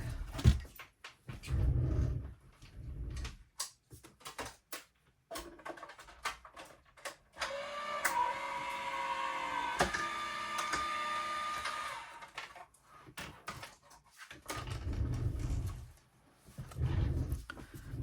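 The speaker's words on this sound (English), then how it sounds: "I've got to run this through my bigger printer." A mechanical printer runs with a steady whirring drone and intermittent clicks and knocks, pausing between passes, close by.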